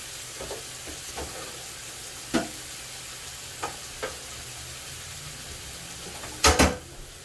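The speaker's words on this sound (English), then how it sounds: "Getting my shrimp going here." Shrimp fry in a pan with a steady low sizzle, broken by a few sharp clacks of tongs or utensils and a louder double clatter near the end, with no talk.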